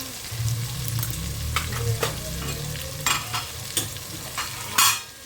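Spices being stirred into chicken curry in a pan: a steady sizzle and fry with repeated scraping stirs and a few utensil knocks, fairly close and with no talking.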